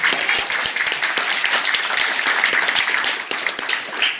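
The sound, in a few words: applause for Councillor O'Sullivan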